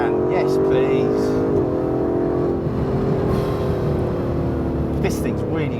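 Aston Martin DB11 with its turbocharged engine accelerating hard, a loud sustained rising drone from inside the car with a voice talking over it.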